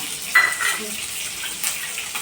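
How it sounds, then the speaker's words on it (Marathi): Cumin, mustard seeds and curry leaves drop into hot oil in a pan for rajma masala, giving a soft crackle and hiss with a few brief pops, close and fairly quiet throughout. "तर आपलं तेल तापलेलं आहे थोडं जिरं टाकूया अर्धा चम्मच मोहरी टाकलेली आहे थोडी तर कढीपत्ता टाकूया"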